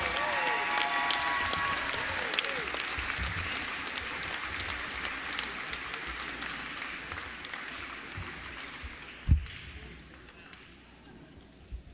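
Crowd applause and cheering in a gym for the Hope College volleyball team, NCAA Division III national runner-up, a broad steady roar of clapping that slowly eases, with a single sharp thump near the end.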